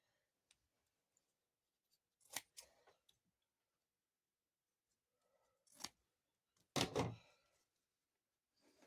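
Scissors trimming the loose fabric ends of a sewn Christmas bear, heard as a few sparse, quiet snips and clicks close by with long silent gaps between them.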